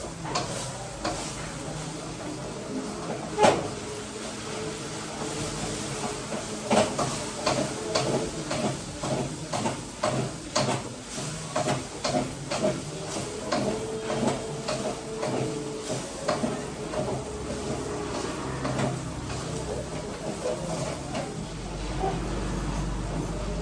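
A pan of homemade chow mein tossed with green chili sauce is stirred with a spatula, giving rhythmic scraping strokes over a steady sizzle. The strokes come close and loud in a fairly even pattern, with a few faint voices in the background.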